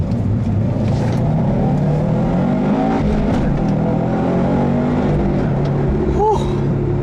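A 2012 Subaru Impreza WRX STi accelerating hard on a test drive, its engine note rising steadily inside the cabin with continuous road rumble and someone speaking over it.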